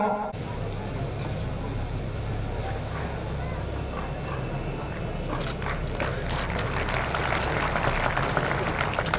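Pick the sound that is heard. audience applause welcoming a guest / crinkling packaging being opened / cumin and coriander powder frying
audience applause welcoming a guest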